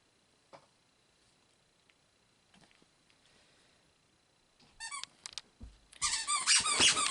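A dog chews a pineapple squeaky toy, a burst of rapid high squeaks clustering near the end after quiet with faint rustles earlier.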